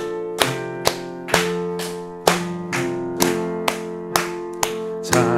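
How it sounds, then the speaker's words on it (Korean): A church congregation at a Wednesday evening service claps hands in a steady beat while praying, each sharp clap landing over sustained keyboard or organ music. "박수 치면서 기도하겠습니다."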